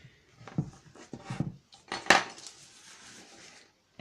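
A chisel knocks chunks off a block of beeswax in several close, sharp scraping strikes with one louder crack in the middle, then quieter scraping.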